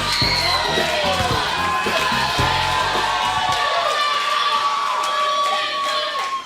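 Crowd at a kids' wrestling event cheering and shouting, with high children's voices whooping over a dense, steady roar that stays loud throughout.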